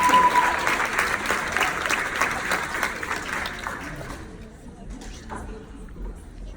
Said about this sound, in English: give these ladies a big round of applause